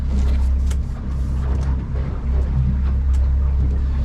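Boat engine in gear at 900 RPM, a steady low droning rumble with some wind and water noise, close and continuous.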